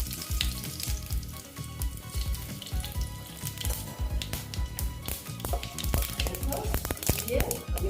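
Fenugreek, cumin and mustard seeds frying in hot oil, a dense crackling sizzle with sharp popping bursts and clatter throughout, someone speaking over it.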